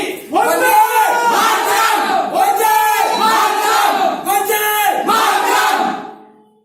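Street protest crowd in a stage drama, shouting slogans in loud rhythmic bursts, several rising and falling chants in close succession, then fading out at the end.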